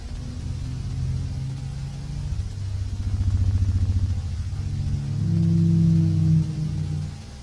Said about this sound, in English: That's the sound of a T-Rex